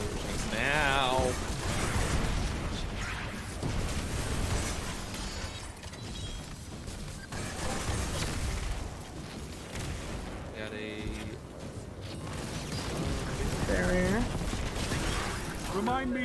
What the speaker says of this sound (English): Of course they throw out explosions now.